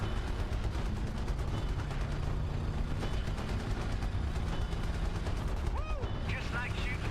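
Turret gun firing in the video game Terminator Salvation, a fast rattling stream of shots over a low engine rumble, loud and steady throughout, with a brief squealing whine near the end.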